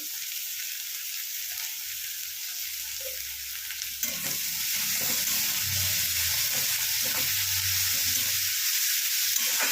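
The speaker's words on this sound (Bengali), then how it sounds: "পেঁয়াজগুলো ভালো করে ভেজে নেব।" Plenty of sliced onions fry in a pan for a Bombay duck (lote fish) dish, a steady close sizzle that grows louder partway through, with soft stirring scrapes and low rumbles underneath.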